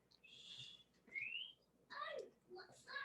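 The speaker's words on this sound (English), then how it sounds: "It sounded like a whistle to me. What a lovely tune." A cartoon child whistles a short tune in several rising and falling phrases, fairly quiet and close, with brief pauses between the notes.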